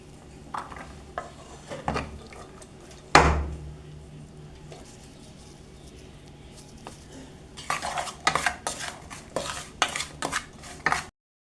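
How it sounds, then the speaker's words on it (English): Pots, dishes and cutlery clatter and clink as someone cleans up in a home kitchen while onions fry, with scattered knocks at first, one loud bang, a quieter stretch, then a busy run of clattering near the end. "while the onions are frying, I'm cleaning as I go"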